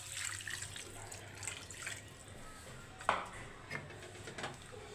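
A cup of water poured into meat simmering with milk for korma: a soft, faint trickle and splash with a few small clatters, quiet and close.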